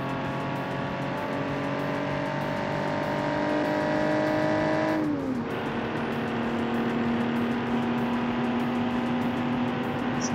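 A 1975 Porsche 911 Carrera replica engine in BeamNG.Drive, droning steadily at high revs, then dipping briefly as if shifting before settling into a sustained, even hum.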